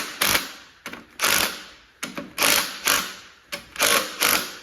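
Bursts of rapid ratcheting on rocker shaft bolts of a 1973 225 Slant Six engine, loosened in turn, five or six quick clicking runs with short pauses between, close and fairly loud, no talk.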